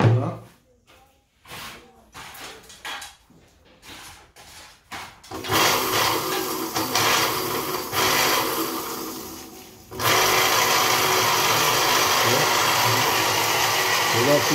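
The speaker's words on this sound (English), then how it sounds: "So this is the grinder." A grinder grinding cocoa for Jamaican chocolate tea: short bursts of motor noise at first, then a loud, sustained grinding whir that dips briefly and resumes steadily. Voices can be heard.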